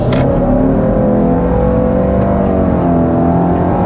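A 2022 Subaru Outback Wilderness with a CVT accelerates hard, its engine holding a steady, loud drone at near-constant pitch close by, without speech.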